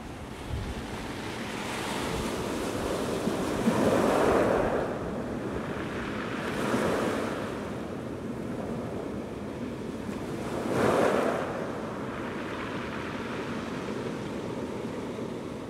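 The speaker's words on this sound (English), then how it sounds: "It's Beach Ocean Easter Island" Ocean surf rolls onto a beach on Easter Island, a continuous wash of breaking waves swelling in three broad surges, mixed with wind rush and no voices.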